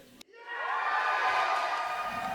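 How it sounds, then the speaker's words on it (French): A crowd applauds and cheers as a candidate is declared elected as a member of Parliament. A sudden swell of clapping rises fast after a brief pause, then holds as a loud, sustained wash of applause. "Sous les applaudissements"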